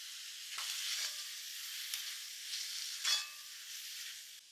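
Sliced small onions and tomatoes sauté in a pan for a beef biryani, with a soft, continuous sizzle, a few stirring scrapes and no talking.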